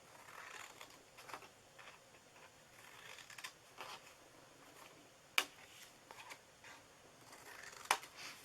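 Scissors cut through card for a Valentine's treat box, giving faint, soft snips in a quiet room, with two sharper clicks of the blades closing.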